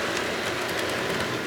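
A model train runs on a home train set track that mixes new and old sections, powered at high voltage, giving a steady close rattling hum with faint clicks and no talk.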